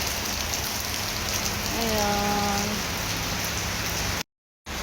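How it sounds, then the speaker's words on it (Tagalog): Continuous heavy rain pouring on a surface in Kuwait, a dense steady hiss, with a faint brief tone partway through before it cuts off abruptly. "Malakas ang ulan. Pangatlong araw na itong ulan ngayon."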